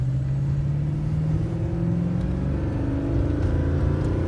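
A 2015 Toyota Tundra pickup truck engine runs with a steady, close, low rumbling drone. The pitch shifts slightly as it revs, and no voices are heard.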